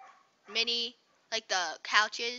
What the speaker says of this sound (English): Was that your dog barking?